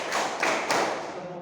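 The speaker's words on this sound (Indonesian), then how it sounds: "Tepuk 1, tepuk 2, tepuk 3, tepuk 4," A few sharp hand claps from a classroom clapping game in an elementary school, with about three distinct close claps over a steady room wash and no talking.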